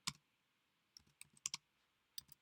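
Computer keyboard keys tapped while entering a command, a short run of light, close clicks in two small bursts.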